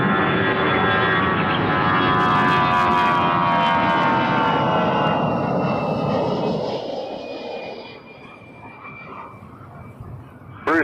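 A jet airliner takes off from a runway at Toronto Pearson Airport, its engine roar loud and broad for about eight seconds before fading as the aircraft climbs away.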